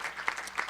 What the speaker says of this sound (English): Round of applause for all these amazing leaders